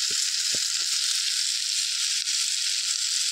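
Eggs frying in a pan without oil for a capsicum curry give a steady, bright sizzle throughout, with a few soft knocks or stirs near the start.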